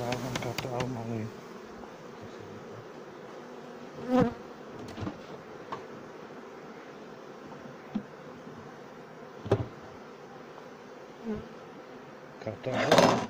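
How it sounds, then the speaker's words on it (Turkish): Steady honeybee buzzing hums throughout during a honey harvest, with a few louder close passes and brief knocks standing out against the drone. "Arı saldırgan."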